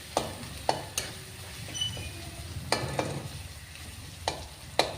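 Green pea kachori filling fries quietly in a pan while a spoon stirs it now and then, leaving sharp scraping clicks at intervals over a faint, steady sizzle.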